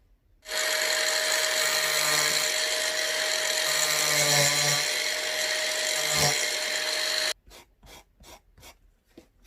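A grinder trims excess foam off a gasket in one steady, loud, high buzzing run of about seven seconds, then stops, followed by a few short rubbing or brushing strokes.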